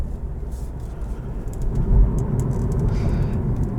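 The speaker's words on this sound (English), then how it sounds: "when you upshift, or when it upshifts that red line, it just snap fires these shifts" A 2021 Cadillac CT4-V with a 10-speed automatic accelerating hard, its engine note rising steadily with a quick upshift surge midway, heard from inside the car without talking.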